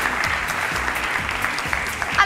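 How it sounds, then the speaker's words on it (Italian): An audience at the finale of a 2017 talent show claps in a dense, even burst of applause that lasts a couple of seconds, with no one speaking over it. "Facciamo un altro bel applauso."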